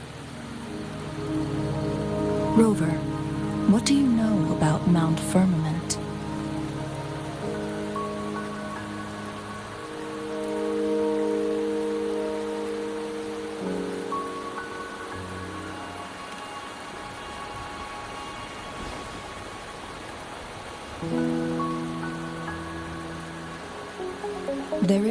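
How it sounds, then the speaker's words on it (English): Steady rain falls across a scene in the video game Wuthering Waves, a soft continuous patter under game music and a character's talking. "Don't worry, the rain won't last much longer."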